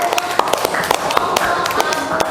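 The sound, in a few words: classroom applause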